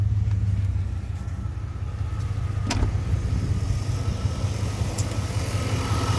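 A 1991 Chevy Silverado engine drops back to a steady idle, a continuous low close rumble with a faint click partway through, and nobody speaks.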